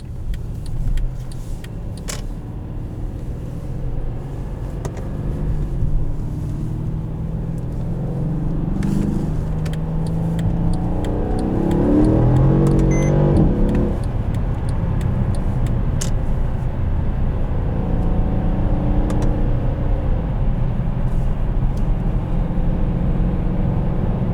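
A 2013 Mercedes-Benz E63 AMG, rear-wheel drive, accelerating on a cold day, heard as a steady in-cabin engine rumble that swells with rising tones toward the middle and then eases.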